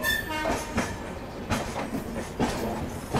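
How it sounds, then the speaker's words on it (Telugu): The Vivek Express, a daily long-distance passenger train between Kanyakumari and Dibrugarh, rolls past nearby with a rumbling run and repeated clattering wheel knocks over the rail joints, and no voices. "ఇండియా లాంగెస్ట్ ట్రైన్ ఇది. కన్యాకుమారి డిబ్రూగఢ్ మధ్యలో అయితే నడుస్తుంది"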